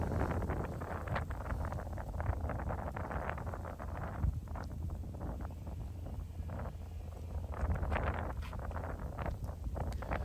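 Wind gusts across a disc golf course during a tournament round, a low, rumbling buffet on the microphone with rustling bursts, steady and fairly quiet throughout.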